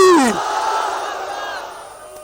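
A large crowd at a religious gathering roars a chant in unison, a loud, swelling mass of voices that follows a single leader's call and fades over about two seconds.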